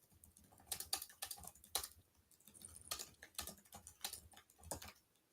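Computer keyboard typing comes in quick bursts of crisp key clicks with short pauses between them, fairly close but quiet, with no voices.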